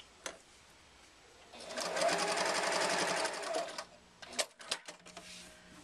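A sewing machine stitches the zipper pocket of a fabric wallet, a steady mechanical whir building for about two seconds before stopping, followed by a few near clicks and handling sounds.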